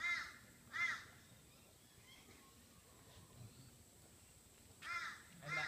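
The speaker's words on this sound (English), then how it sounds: "And that crow comes in right onto you, doesn't it?" A crow caws in short bursts, two calls near the start and two near the end, fairly distinct against a quiet outdoor background during a suburban house auction.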